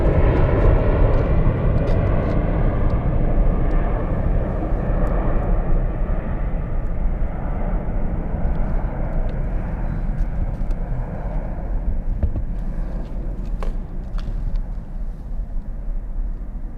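An airplane passes at Zurich airport with a loud, sustained broadband jet roar that stays strong throughout and slowly thins out toward the end, with no voices.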